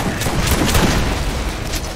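A shotgun blast in the video game Borderlands, a loud booming burst with rumbling tail filling the moment, no talk.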